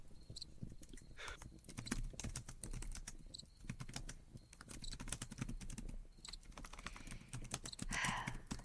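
Steady, rapid typing on a computer keyboard fills the whole stretch, with clicky keystrokes in an even patter up close, while a faint high cricket-like chirp comes and goes in the background.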